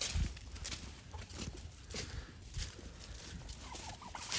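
A farmyard turkey gobbles faintly at a distance amid rustling and outdoor background noise, with a few brief bursts rising above the steady din.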